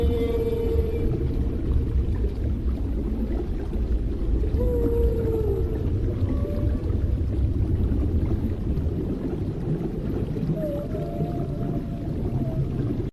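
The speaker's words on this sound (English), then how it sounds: "This is how a blue whale sounds like." A blue whale calls underwater in long, low, drawn-out moans that slowly sweep in pitch, repeating several times over a constant deep ocean rumble.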